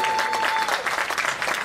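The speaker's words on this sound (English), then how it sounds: "Let's give those boys a round of applause." A crowd at a boys' lacrosse all-star game gives lively applause for the players, a brisk, continuous wash of many hands clapping throughout, with a faint tone briefly audible underneath.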